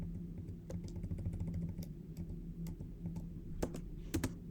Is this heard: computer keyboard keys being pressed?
yes